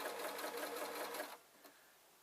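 A sewing machine sews a small leaf-shaped fabric piece at a fine stitch, giving a close, even mechanical whir that stops abruptly partway, leaving a faint tick and quiet room tone.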